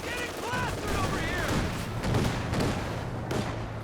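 Gunfire from a .50 cal machine gun in the Company of Heroes 2 strategy game, dense sustained bursts and booms filling the mix, with a faint melodic game sound and dull thuds, no clear talk.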